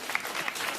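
Studio audience applause on a late-night talk show, a dense steady wash of clapping throughout the short burst with no voices over it.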